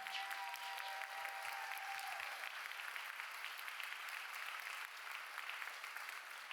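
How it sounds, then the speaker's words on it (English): An audience at a wedding vendor panel applauds, a dense, steady patter of many clapping hands that carries on throughout, faint in level, with no one speaking. "Round of applause for the panel."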